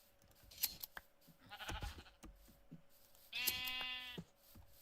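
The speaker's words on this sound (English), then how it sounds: "Come over here, sheep." Sheep in the Minecraft video game bleat twice, short nasal game calls close and clear, alongside a few clicks and light thuds.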